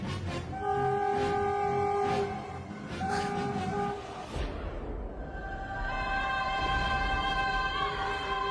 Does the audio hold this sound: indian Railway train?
yes